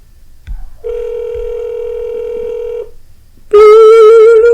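A telephone call rings back with a steady, sustained tone, pauses briefly, then gives way to a louder, higher tone as the call is forwarded to voicemail; no talking.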